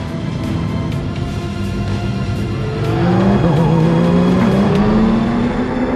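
Loud race car engines roar and rev together at the start of a race at Paul Ricard, their pitch climbing sharply as the cars accelerate away, with a brief tire squeal.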